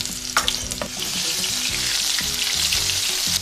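Garlic and ginger fry in a pan of oil with browned cumin for mutton keema karahi, a loud continuous sizzle with a few sharp clinks from stirring.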